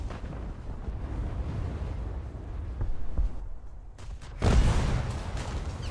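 Heavy gunfire from the French battleship Strasbourg in a naval combat game, with a rumbling low-end barrage building up and a loud broadband blast landing near the end before the echo decays.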